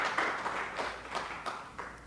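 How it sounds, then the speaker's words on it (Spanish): An audience at a community talk applauds a speaker, a quiet, steady patter of many hands clapping in a room, with no voices over it. "les vamos a dar un aplauso por estar acá y hacer este esfuerzo de venirse tan lejos"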